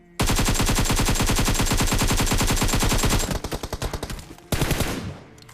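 Rapid automatic gunfire in a video game gunfight, a long loud continuous burst of close shots that breaks into uneven shorter volleys, then one final short burst before fading out.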